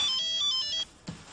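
A mobile phone ringtone plays indoors, a repeating bright electronic melody in short pulses that cuts off abruptly, followed by a brief soft thump, with no talk over it.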